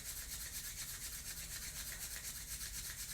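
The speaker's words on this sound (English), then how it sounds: "So rubbing hands together until you start to feel some warmth," Two hands rub briskly together to build warmth, making a continuous soft, rhythmic swishing friction that stays faint and steady throughout.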